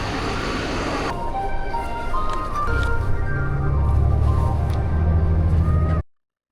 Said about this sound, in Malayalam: 4:40 ആയപ്പോഴേക്കും ബസ് വന്നിട്ടോ